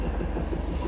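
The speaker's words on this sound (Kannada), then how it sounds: "4 ಬೋಗಿ ಟ್ರೈನು." A short four-coach train with engines at both ends rumbles past close by, a loud, steady low roar with faint rail noise and no voices.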